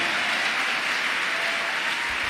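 A church congregation applauding during a French-language service, a steady wash of clapping from many hands that holds evenly throughout without any talk.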